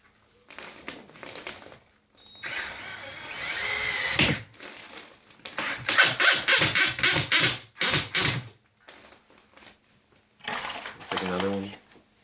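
A drill drives a 2.5 inch screw through a drywall patch into a 2x4 stud. Close whirring bursts start and stop in several separate runs, with handling clatter in the gaps between them.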